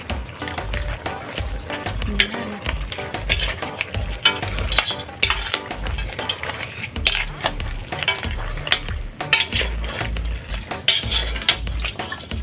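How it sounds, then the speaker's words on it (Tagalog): A spoon scrapes and clatters against a pot while duck caldereta is stirred, with irregular close metallic knocks over a low simmering sizzle, no talk. "Haluin lang natin."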